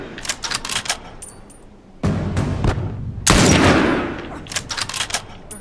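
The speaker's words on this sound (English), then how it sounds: "Let me shoot." Gunfire in The Last of Us video game comes as a few sharp, loud bursts separated by short gaps, with rapid clattering shots at the start and end.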